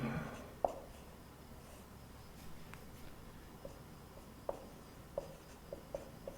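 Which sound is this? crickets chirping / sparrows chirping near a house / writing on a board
writing on a board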